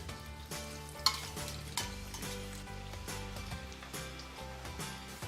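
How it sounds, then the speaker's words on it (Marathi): Onion slices frying in hot oil in a wok over low heat for prawn biryani, a steady close sizzle with scraping stirs and a few sharp utensil knocks, no one talking. "आपण आता हा जो कांदा आहे तो एका बाजूला फ्राय करून घेऊया."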